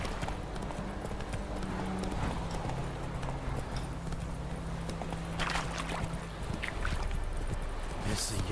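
A horse gallops in The Witcher 3 video game: a steady, fast clip-clop of hooves runs through the whole stretch over a low, continuous background hum.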